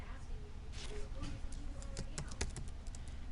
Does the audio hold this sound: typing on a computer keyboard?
yes